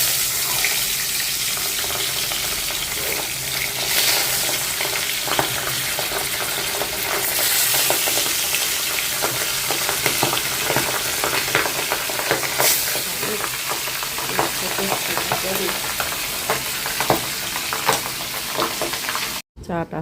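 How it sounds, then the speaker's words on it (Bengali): Fish frying in a pan gives a steady, dense sizzle that carries on throughout, with faint clinks and a sound like water running in the background, cut off abruptly near the end. "এখন হচ্ছে মাছটা ভাজবো।"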